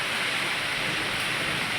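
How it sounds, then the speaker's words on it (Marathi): A heavy downpour keeps up a constant, even wash of rain noise close by, with no talking. "चांगलाच लागला पाऊस"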